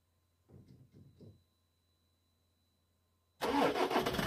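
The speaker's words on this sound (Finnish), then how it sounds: "Täytyy laittaa auto vähäksi aikaa käyntiin" A car engine cranks and catches, starting up for a warm-up before a trip: a few short cranking bursts, a pause, then the motor fires into a loud, steady running roar close by.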